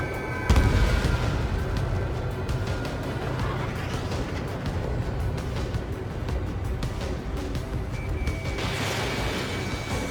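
A Eurofighter Typhoon missile launch: a sharp boom near the start, then a dense, steady roar of jet engine and rushing exhaust that holds loud and unbroken for about ten seconds.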